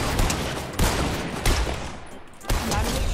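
Rapid Fortnite video game gunfire crackles in dense, loud bursts that overlap almost continuously, with sharper volleys roughly every second.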